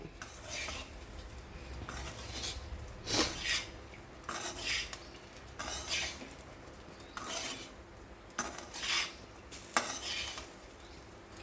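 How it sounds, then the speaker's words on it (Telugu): A spoon scraping and stirring ridge gourd curry with leftover chickpea flour in a pan, with repeated irregular metallic scrapes against a low background hiss and no talking. "ఆ పిండి మనం ఇప్పుడు వేసి ఒక 5 నిమిషాలు ఫ్రై చేసుకోవాలి."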